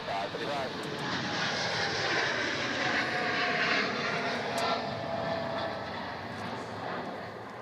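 A Jetstar airliner lands on runway 09 at Melbourne Airport, its engines making a continuous broad jet roar at moderate distance that swells and then fades slowly, heard alongside a radio voice and outdoor talk.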